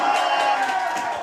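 A crowd at a boys' high school soccer game, Mepham vs. MacArthur, rises into a loud, sustained roar of cheering voices, brief and continuous.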